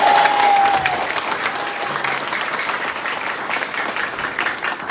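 Audience applause for guests at an inspirational talk event in the Philippines, a dense steady round of clapping from a crowd, loudest at the start and holding throughout with a faint whistle-like tone early on.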